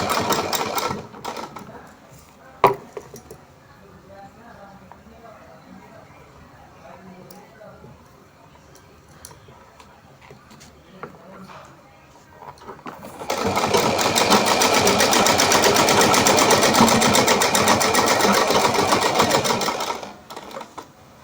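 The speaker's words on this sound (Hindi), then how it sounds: "अब हम इसमें ऊपर इस तरह से फिनिशिंग की सिलाई।" An electric sewing machine stitches the finishing seam along the top of a small Kanha costume skirt, running in one loud continuous burst for several seconds after quieter handling noises and someone speaking.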